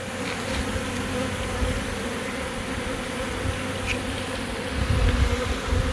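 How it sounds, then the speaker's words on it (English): A honeybee swarm caught at head height works its way down into a box, a thick, constant buzzing of many bees up close, swelling slightly louder toward the end, with no talking. "the bees they're working their way down to the box, and they're finding out where they need to be"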